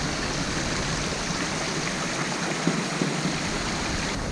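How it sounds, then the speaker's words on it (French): Steady rushing of a small waterfall in a garden of an old samurai house in Kanazawa, Japan, constant and close, filling the whole clip with broad splashing noise. "Petite cascade et tout à côté."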